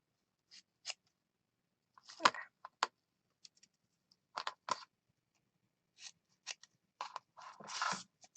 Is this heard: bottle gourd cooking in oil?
no